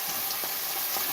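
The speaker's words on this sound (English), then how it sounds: "I'm frying my meat, sorry." Meat fries in a pan, a steady close hiss and crackle of sizzling fat with faint pops, alone and without talk.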